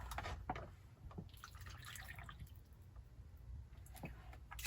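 Filtered water poured into an Instant Pot inner pot holding washed purple rice, a steady liquid trickle and dripping splash running throughout at close range with no talk.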